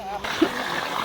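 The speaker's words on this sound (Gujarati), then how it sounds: "અત્યારે પપ્પાએ મોટર ચાલુ કરી છે" Water gushing from an electric water pump motor at a family home, a steady broadband rush that starts abruptly and runs under close talking.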